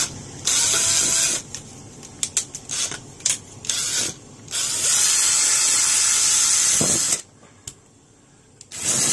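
A power drill bores a hole in a caravan roof. It is loud and close, with several short whining bursts, then one long sustained run that cuts off sharply, and a final quick burst.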